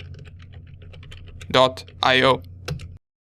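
Computer keys clatter in a short burst of light, quick taps, then a voice speaks over the final strokes.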